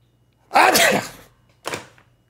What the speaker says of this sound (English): got to sneeze